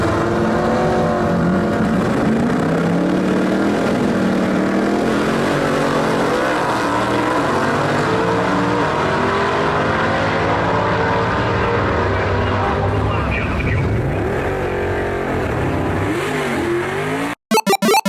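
Two 1955 Chevys drag racing side by side, loud engines roaring and revving hard down the strip with shifting pitch, crowd noise beneath, ending in an abrupt cut.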